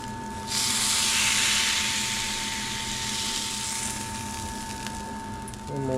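Prime rib sears in a hot pan as it is rocked back and forth to build a crust, a loud steady hiss that swells at once and then tapers slightly over several seconds.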